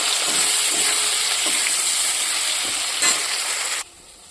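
Dried fish frying in a pan gives a loud, dense sizzle with light stirring scrapes, holding steady for several seconds before cutting off abruptly.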